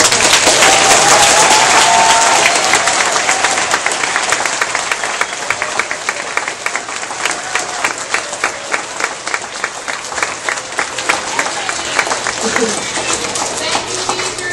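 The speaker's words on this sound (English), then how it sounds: "So let's give them a big round of applause." Elementary school students at Cumming Elementary give their teachers a big round of applause, loud continuous clapping from a large group that thins slightly over time, with some cheering mixed in.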